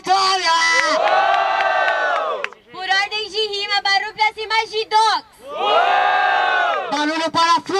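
A crowd at a rap battle final erupts in loud, sustained cheering, whooping and shouting, surging in long waves with a brief dip between bursts.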